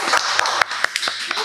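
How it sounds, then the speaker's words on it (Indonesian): A few people clap for guests at a casual podcast taping in a coffee space, giving a short run of sharp, close hand claps at an uneven rhythm. "Tepuk tangan untuk semuanya."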